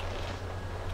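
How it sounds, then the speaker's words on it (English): A loud home computer cooling fan roars like a vacuum with a steady, even whoosh and a low hum, constant and close throughout. "my computer likes to sound like a vacuum"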